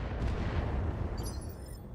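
Laser shot and missile volley in a video game battle, a dense, continuous rumble of rapid low booms and gunfire-like bursts, loud and close throughout with a faint high whine near the end.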